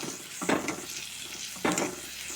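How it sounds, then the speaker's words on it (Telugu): Onions and green chillies frying in oil in a pan, a low steady sizzle broken by two distinct stirring scrapes, close and moderately quiet. "ఇప్పుడు ఈ దోరగా వేగిందాక వేపుకుందాం ఉల్లిపాయ ముక్కలు"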